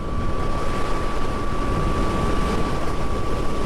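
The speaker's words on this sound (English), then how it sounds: "There's just a whir and a lot of wind noise." Steady, loud wind noise buffets the microphone while riding a Harley-Davidson LiveWire electric motorcycle, with a constant thin motor whine held underneath throughout and no talking.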